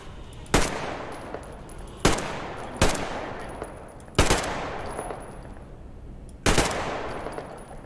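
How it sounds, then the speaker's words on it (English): Gunshots in Metro Exodus, five loud single shots spaced irregularly, each followed by a decaying echo, with quiet between. "Oh no, I'm going to shoot you."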